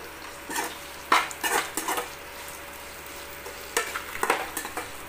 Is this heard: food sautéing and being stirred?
yes